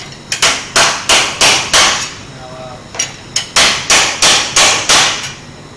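Sharp metallic hammer blows ring out in two rhythmic runs, about five strikes then a brief pause, then another rapid series of loud, close impacts.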